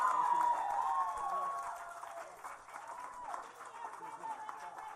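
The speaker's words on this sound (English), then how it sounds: "Let's all give a round of applause." An audience applauds and cheers with whoops as a senior class presents an award, a steady wash of clapping mixed with excited voices that fades slightly after the first couple of seconds.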